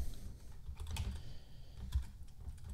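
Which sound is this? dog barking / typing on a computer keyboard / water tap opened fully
typing on a computer keyboard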